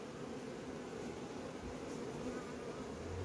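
Bees buzz steadily around a hive colony that is rebuilding after a laying-worker problem, a continuous close-up drone with no voices over it.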